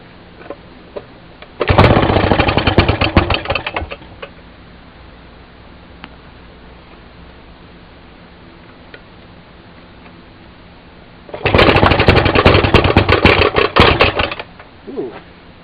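An old Maytag 92 washing machine's small gasoline engine sputters to life in two loud bursts of rapid popping and ticking, separated by a quieter stretch of low background hum.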